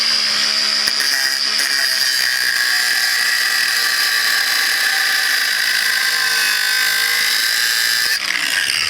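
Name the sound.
angle grinder cutting leftover steel from tube notch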